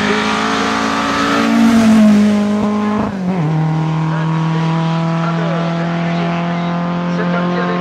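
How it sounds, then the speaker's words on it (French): Race car engines roar and rev loudly at the Marchairuz hill climb, holding a steady high whine that shifts in pitch as they accelerate, with a crowd or commentary faintly underneath. "C'est parti avec les voitures de course dans la place."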